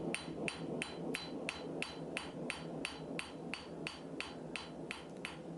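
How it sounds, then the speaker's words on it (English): A 2 1/4 pound rounding hammer strikes a 170 pound Trenton Ajax anvil in a steady, rapid series of about a dozen bright ringing blows, close and clear with no voices. "this is a 2 1/4 rounding hammer, so 2 1/4 pound rounding hammer with a 170 pound Trenton Ajax anvil"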